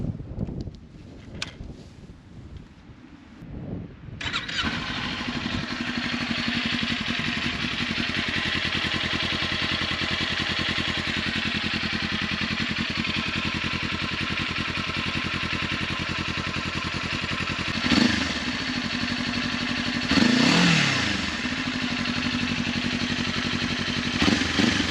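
A 2023 Kawasaki Ninja 400 fitted with an Akrapovic titanium slip-on exhaust starts up and settles into a steady, close idle, with a couple of brief throttle blips swelling the engine note.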